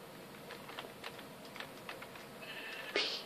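A sheep bleating in the Minecraft video game, faint wavering calls over soft keyboard clicks, ending in a louder bleat near the end.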